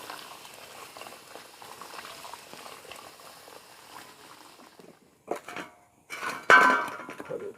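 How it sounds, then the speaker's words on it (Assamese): Duck curry boiling in a pot of water over a village wood fire, a steady low bubbling that runs for several seconds before a few louder clinks and stirring noises near the end. "পানী দিয়াৰ পিছত এইখিনি 20 মিনিটমান সময় উতলিব দিম"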